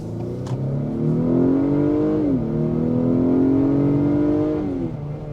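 Inside a 2023 Acura RDX A-Spec in sport mode, the engine hums and climbs in pitch under acceleration, dips at a gear change, then rises again before easing off; steady and fairly loud throughout.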